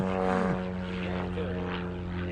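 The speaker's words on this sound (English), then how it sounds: "Extra points for the biplane," A propeller biplane flies overhead at a beach, its engine drone loud and steady and then easing slightly as it passes, with faint voices in the background.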